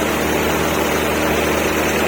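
Hyundai Atoz car engine idling, a steady continuous drone with a low hum, loud and close-up, with no talking.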